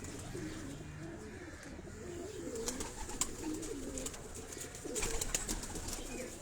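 Pigeons of several breeds coo in a small rooftop coop in Karachi, a soft low warbling that runs steadily and fairly close, with occasional brief chirps and light clatter over it and no talking.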